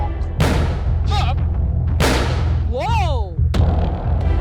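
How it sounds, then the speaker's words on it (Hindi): Several sharp, loud blasts go off one after another, each ending in a rumbling boom, with a whooshing whistle between them. "ये धमाका आपकी सेफ्टी के लिए था।"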